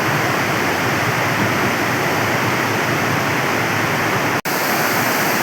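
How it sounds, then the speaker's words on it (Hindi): Floodwater rushes at high speed through a village farm field after a sudden cloudburst, a loud, steady roar of churning water filling the whole clip without a break, close by and with no one speaking. "इतनी तेज़ स्पीड से ये पानी निकल रहा है"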